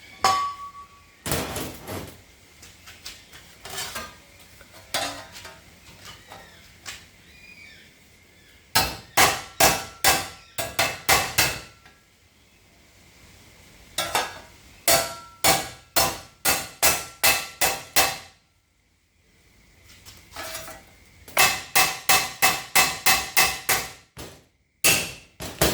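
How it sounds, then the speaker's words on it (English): Sharp metal-on-metal hammer blows ring out in fast rhythmic bursts with short pauses, shaping a rusty sheet metal floor panel for a 1972 GMC Actionline Longbed truck in a workshop. "Might need to do that with a hammer."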